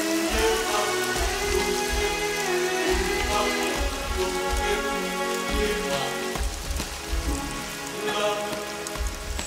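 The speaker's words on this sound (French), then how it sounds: "il pleut." Steady rain patters on leaves and surfaces, a dense continuous hiss of drops with frog-like tonal calls layered throughout, fairly close and even in loudness.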